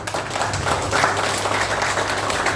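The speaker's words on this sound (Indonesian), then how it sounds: "Tepuk tangan untuk beliau." An audience at a political volunteer team declaration event breaks into steady, dense applause that fills the whole stretch at moderate loudness, with no pauses.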